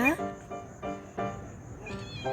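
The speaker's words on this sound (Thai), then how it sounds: "วันนี้ก็ชมภาพลูกแมวในกรงก่อนนะคะ" Kittens meow from inside a cage, several mewing calls in quick succession on a cool, windy day, close and fairly clear over soft background noise.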